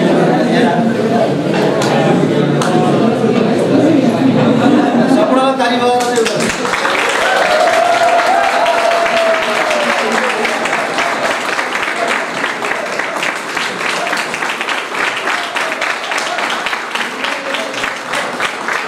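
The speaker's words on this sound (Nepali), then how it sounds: "सम्पूर्ण साथीहरूलाई उठेर ताली बजाइदिनु चाहिँ अनुरोध गर्दछु" An audience at a political party's lamp-lighting ceremony in Chitwan bursts into dense, loud, sustained applause that fills the hall, following a stretch of talk at the start.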